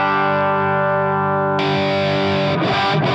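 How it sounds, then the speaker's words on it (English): An electric guitar played through an amp's distortion channel rings out as a sustained, heavily overdriven chord. Partway through it is struck again, giving a louder, fuller burst that ends in a couple of quick choked strums. No one talks. "this is the basic sound that I'm running with this amp."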